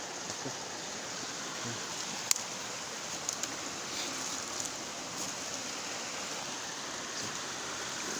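Steady, faint water flow of a creek in a forest park, a continuous soft rush with a few small clicks and no voices.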